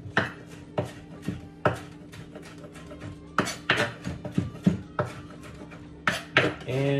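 Knife chopping parsley and spinach finely on a board, sharp spaced thuds at first, then quicker bursts of rapid cutting strokes, close and without talk.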